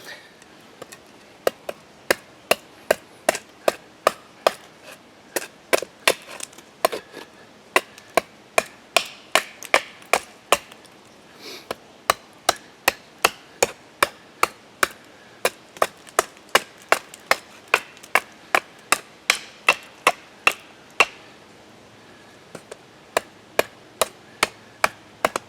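A knife chops at wood in preparation for a bow drill fire, sharp close knocks repeating fast and fairly evenly, dozens of crisp hits with brief pauses between bursts.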